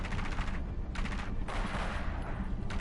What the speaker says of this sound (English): He was chilling, listening to the gunfire.